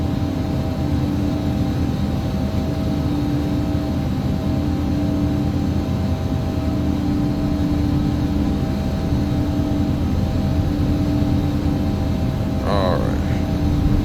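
An airliner on approach to land in the X-Plane 11 flight simulator gives a loud, steady cockpit engine drone with a constant hum and hiss throughout, and a brief voice-like sound surfaces near the end.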